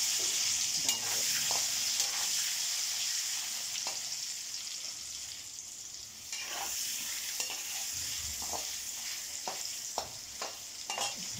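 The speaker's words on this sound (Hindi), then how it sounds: "ये हमारा तेल ऑलमोस्ट गर्म हो चुका है, इसमें मैं अब अपने उबले आलू को डाल दूँगी।" Boiled potatoes drop into hot oil for masala aloo dum, giving a continuous close sizzle and crackle with occasional stirring scrapes and clinks, no voices.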